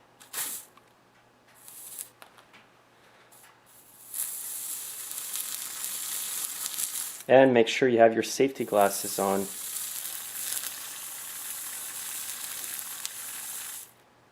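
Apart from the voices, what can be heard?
penetrating oil sprayed on hot engine sizzling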